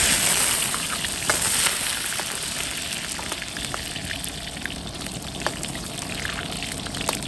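Ginger and garlic fry in rendered pork fat in a wok, giving a steady bright sizzle with scattered crackles and pops throughout, close and continuous.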